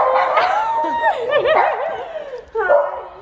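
A small toy Maltipoo puppy yips and barks in quick high-pitched bursts with whiny, whimpering tones, close and loud, briefly pausing before a final burst.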